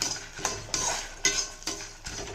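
Lentils dry-roasting in a pan for Andhra paruppu podi, stirred with a spatula that scrapes and knocks against the metal in several distinct strokes over a steady rustling background.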